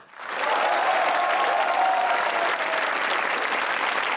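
Studio audience at a Pakistani comedy talk show breaks into loud, dense applause that swells within half a second and holds steady, a sustained wash of many hands with some crowd noise.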